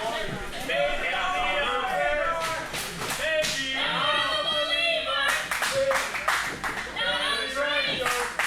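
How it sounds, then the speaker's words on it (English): A wrestling crowd at a live show sings a wrestler's theme song, a loud, continuous mass of chanting voices with scattered claps and thumps running through the whole stretch. "The crowd singing the theme song of Brendan Devine."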